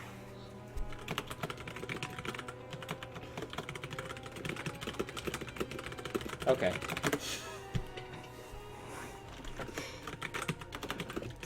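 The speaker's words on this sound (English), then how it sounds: "Will you stop typing on my thing?" Clicking on a computer keyboard at a gaming tournament, steady quick keystrokes running under loud overlapping voices and crowd noise, with someone speaking over them.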